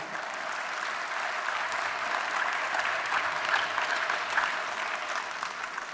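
Sustained, dense applause from a church audience at a Catholic Mass, steady and fairly loud throughout with no voices over it.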